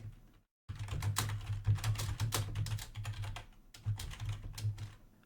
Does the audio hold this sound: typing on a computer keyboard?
yes